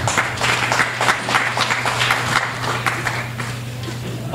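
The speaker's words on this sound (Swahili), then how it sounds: "wapigie makofi sana" An audience at a nursery school graduation applauds the graduating children, giving steady, moderately loud clapping with a low hum underneath.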